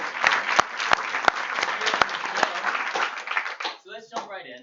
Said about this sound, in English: One more round of applause for that amazing introduction.